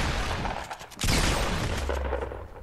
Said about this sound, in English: Someone's sniping at us